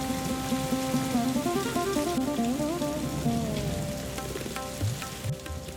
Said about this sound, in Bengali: দিদি, বৃষ্টি এসে গেল,